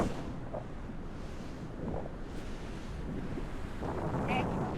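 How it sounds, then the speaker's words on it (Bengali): Ocean waves break on an empty sandy beach in Sri Lanka, rolling in a steady wash of surf. Gusty wind buffets the microphone, and faint distant voices sit beneath the noise. "পুরা বালি, অনেক ঢেউ সমুদ্রে।"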